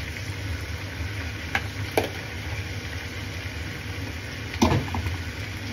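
Vegetables for yakisoba are stirred in a hot pan, a soft steady sizzle broken by a few scraping knocks of the utensil against the pan, with no talking.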